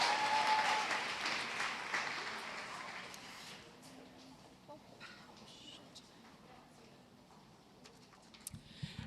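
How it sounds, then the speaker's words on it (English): Audience applause at a women's business event, fairly loud at first, then thinning and fading to scattered claps and quiet room noise. "So big round of applause for them."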